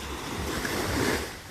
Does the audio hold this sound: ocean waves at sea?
yes